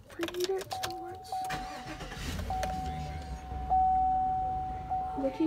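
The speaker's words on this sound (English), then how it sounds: "I've been recruited to crank up the car and preheat it" A family car is cranked to start and warm up before a road trip, with a steady engine hum and a sustained tonal chime running beneath frequent nearby family talk.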